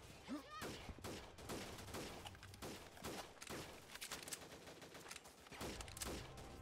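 Enemy gunfire in the video game Freeman: Guerrilla Warfare: loud, rapid bursts of automatic shots crack in quick succession with brief gaps, continuing throughout.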